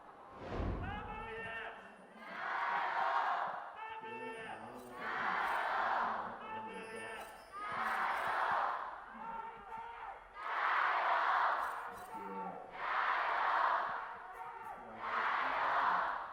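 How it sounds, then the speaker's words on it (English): Crowd in an esports arena at a League of Legends LPL match between Team WE and Invictus Gaming cheers in repeated swelling bursts, rising and falling about every two seconds, fairly loud with commentary faintly beneath. "some support for beishang coming out from the crowd, especially in a very crucial game"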